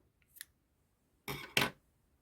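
Two quick, crisp snips of scissors cutting off crochet yarn after a final stitch on a multi-colour flower coaster, preceded by a faint small click, with no talking.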